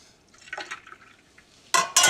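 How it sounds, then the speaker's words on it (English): Lobster bodies and vegetables are pressed through a strainer, giving soft wet squelching and light scraping at first, then two sharp, louder metallic scrapes near the end. "I'm pushing through all of that, the bodies, the vegetables"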